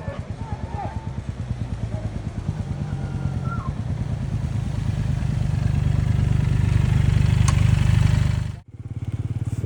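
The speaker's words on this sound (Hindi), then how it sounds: "उसकी बाइक का साउंड बहुत प्यारा था," A motorcycle engine on a ride in Nepal runs steadily up close, its throbbing rhythm building in loudness before cutting out abruptly near the end, with a faint engine returning after.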